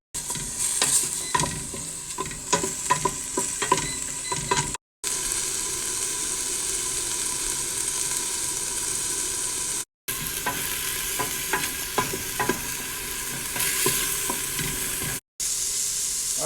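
Onions, carrots and celery sauté in a pot for chicken noodle soup, giving a steady close sizzle broken by scraping stirs of a spoon, with no talking.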